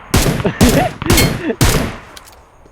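Gunfire in the mobile battle royale game PUBG Mobile: four loud, rapid bursts of automatic shots in close succession, each cracking sharply before a brief lull.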